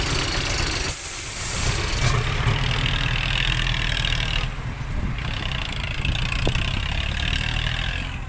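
A tractor engine idles steadily with a low rumble and a faint hiss, staying constant throughout with a slight dip midway.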